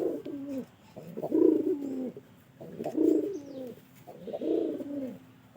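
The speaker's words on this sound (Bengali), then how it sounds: "কবুতরটি খুব ভালো" Domestic pigeons, a paired cock and hen, coo in three rhythmic, throaty phrases with short pauses between, close and clear with no voices.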